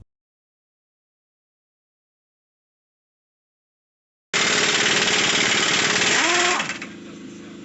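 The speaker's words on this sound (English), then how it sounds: "use an air chisel to push the bearing out of the knuckle" An air chisel hammers hard and continuously against a wheel bearing in a 2013 Subaru Impreza rear knuckle, loud and close, starting after silence, then easing off to a lower idle rattle.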